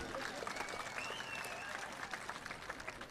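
Audience clapping at a political rally in Haryana, a steady faint wash of applause from a crowd heard at a distance, with no clear voices over it.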